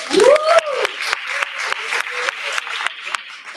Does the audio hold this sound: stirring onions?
no